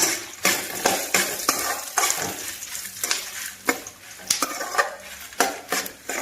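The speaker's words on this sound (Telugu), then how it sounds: "ఇప్పుడు కలుపుకుందాం" A spoon stirs cumin seeds and coriander seeds into a pan for dried chili coriander chutney, giving repeated rhythmic metallic scrapes and clinks against the pan over a light sizzle, close and clear.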